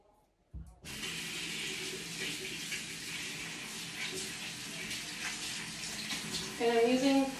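Tap water running cool while rinsing a poodle, a steady loud rushing stream that starts abruptly after a brief quiet moment, with a soft voice near the end.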